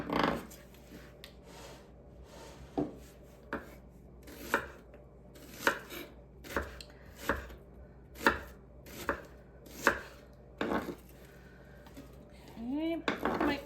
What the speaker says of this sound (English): I'm just gonna slice my onions, not too large